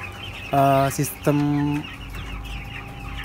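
Broiler chickens in a closed-house poultry barn give two loud, close clucking calls over a steady background of flock murmur and fan hum, with a word spoken briefly.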